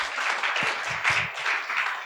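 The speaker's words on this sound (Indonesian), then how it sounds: "kita tepuk tangan untuk Tuhan Yesus" A church congregation applauds after a sermon, a steady wash of clapping from many hands with a few louder claps standing out close by.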